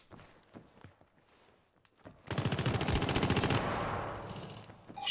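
Rapid automatic gunfire in the video game Syndicate breaks out after a few quiet footstep-like taps, a dense, close, loud rattle of shots lasting over a second and then fading into a lingering rumble.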